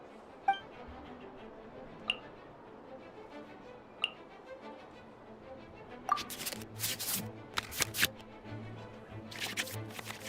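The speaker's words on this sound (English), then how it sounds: "we can select any number of cards in our hand to shuffle back into the draw pile" In a digital card game match, cards shuffle back into the draw pile with a few sharp clinking ticks spaced apart, then a denser flurry of crisp card-flick effects, all without speech.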